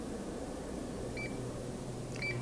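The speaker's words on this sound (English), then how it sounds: "When it's done, the machine will beep." Two faint, thin electronic beeps from a kitchen machine making almond rice oat milk ring out over a steady hum of machine noise, spaced about a second apart.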